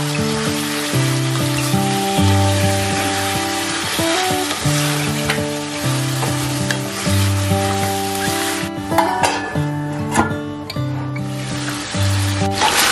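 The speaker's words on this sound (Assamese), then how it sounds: "এতিয়া গোটেইখিনি ভালদৰে ফ্ৰাই কৰি ল'ম।" Marinated duck meat fries in oil with green chili, cloves, cardamom and cinnamon, giving a steady, close crackling sizzle throughout. Sustained background music plays along with it.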